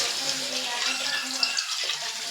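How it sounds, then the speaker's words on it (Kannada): Water poured from a vessel into a pot of mutton curry, a steady close splashing rush lasting a couple of seconds, with soft speech underneath. "ಸ್ವಲ್ಪ ನೀರು ಹಾಕಿ"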